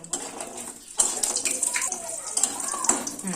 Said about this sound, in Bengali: তেলটা একটু গরম হয়ে গেলে একটু বড়ি ভেজে দিচ্ছি।